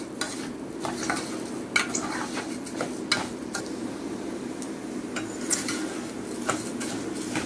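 Rice browning with garlic in a pan gives a steady low sizzle, with frequent light clicks and scrapes of a utensil stirring against the metal throughout. No one talks.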